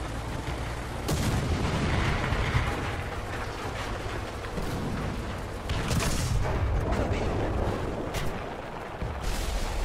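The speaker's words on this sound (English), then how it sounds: "there's artillery coming in right for our position" Incoming artillery in a tank video game, heard as heavy rumbling explosions and booms near the player's position over continuous loud battle noise and engine rumble, with several distinct blasts spaced a few seconds apart.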